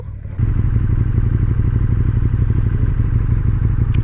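A KTM 1290 motorcycle engine drones loud and close while riding, a steady low rumble with clattering texture that kicks in after a brief quieter moment.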